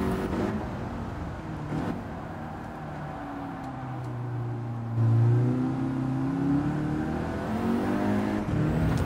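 Car lapping the wet Tsukuba circuit on normal tires, a steady engine drone that rises and falls through revving and gear changes, heard from inside the car with no talk.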